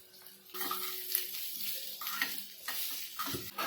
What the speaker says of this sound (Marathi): थोडा कांदा आहे ना लाल करून घ्यायचा आहे पण हे वाटलेले वाटाणे पण टाकून घेऊया